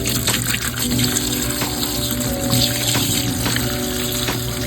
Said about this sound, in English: Now, as you see me pour, you're going to start to see actual bubbles.